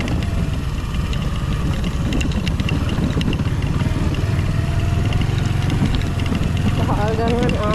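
A motorcycle rides along a rough, broken road in Kumari Ella, Sri Lanka, its engine droning steadily throughout with constant road and wind rumble, and a brief rising tone near the end.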